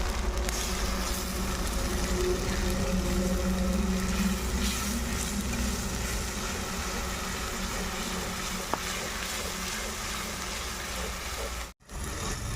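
Tomato paste hitting hot oil in a frying pan with chili paste, for a spicy potato dish, gives a steady, fairly loud sizzle that carries on unbroken for several seconds before a sudden brief cutoff near the end.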